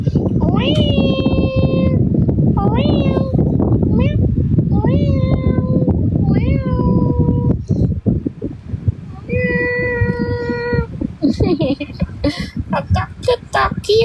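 A cat meows repeatedly at close range, several drawn-out meows in a row, loud over steady background chatter and talk from people in the room.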